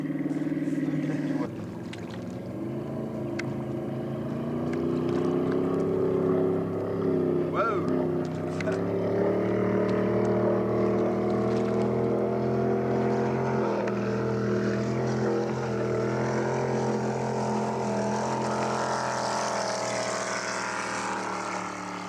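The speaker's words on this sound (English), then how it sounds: "That's a little boat, Tommy." A small motorboat runs steadily on the water, its engine drone loud and continuous from start to finish, with people talking over it.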